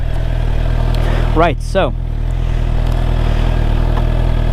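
A motorcycle engine idles steadily after starting with the clutch pulled in, a low constant thrum close by, while someone speaks briefly over it.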